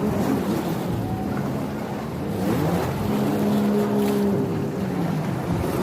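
A speedboat's motor drones steadily across open water, a continuous engine hum with tonal whine and splashing wash, fairly close and without talk.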